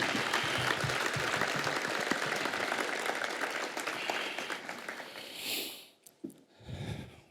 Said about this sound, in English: Can we get a big round of applause for the state of Montana and its powerful leadership?